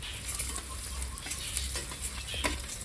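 An egg frying in hot oil in a pan while it is stirred, a quiet steady sizzle with soft scraping strokes, close and fairly faint, without voices.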